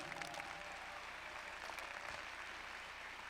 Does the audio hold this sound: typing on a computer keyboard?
no